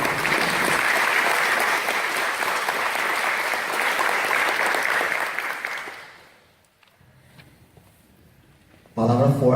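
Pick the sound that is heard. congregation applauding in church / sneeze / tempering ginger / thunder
congregation applauding in church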